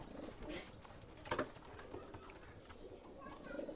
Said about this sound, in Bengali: তো এই হচ্ছে কবুতর ভিউয়ার্স।